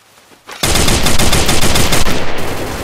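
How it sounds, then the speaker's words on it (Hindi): FAMAS assault rifle firing in the Free Fire battle royale game on the Bermuda map, a sudden loud burst of rapid automatic shots rattling in quick even succession after a brief quiet start. "फार्मस की गोली लगती हुई यार"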